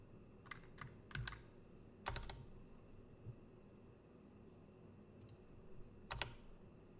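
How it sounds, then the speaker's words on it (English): Keyboard typing in the Ever17 video game, with bursts of clicking keystrokes in separate clusters over a steady low background hum and no voices. "She faced the monitor and banged on the keys with both hands like a piano."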